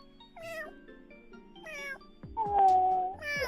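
A voice imitates a tiny baby kitten's meow, giving several high, wavering mewing cries in separate bursts, the last one longer and louder, with no talk over them.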